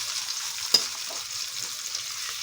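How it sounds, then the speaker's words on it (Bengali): Ginger paste and tomatoes fry in a pan with a steady, soft hiss and a single sharp clink of a utensil, fairly quiet with no talking. "এবার আমরা আদা পেস্টটাকে দিয়ে দিলাম।"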